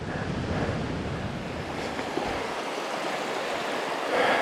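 Rushing water of Nickel Creek on a hiking trail, a steady broadband roar close to the microphone with wind buffeting, continuous throughout with no voices.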